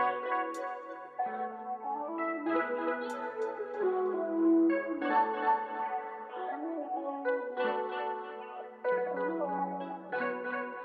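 A warbling, swirling vocal sample with phaser and chorus effects drifts through shifting mid-range tones, echoing softly at a moderate level.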